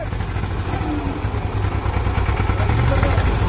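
A pickup's engine runs with a steady, rough, tractor-like rumble on a rain-soaked village track, loud and close throughout, while people talk over it.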